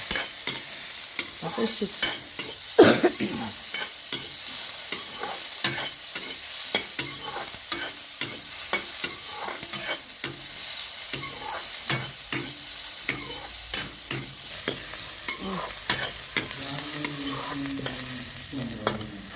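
Onions fry in a pan until golden brown for paneer butter masala, a constant close sizzle broken by repeated sharp scrapes and clatters of stirring, with no talking.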